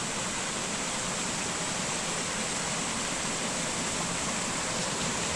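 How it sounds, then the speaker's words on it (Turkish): A waterfall at a riverside restaurant in Paşaderesi, Çameli, Denizli roars as a continuous dense rush of falling water, loud and close, with no pauses and no voices. "Şurada şelale şöyle göstereyim size."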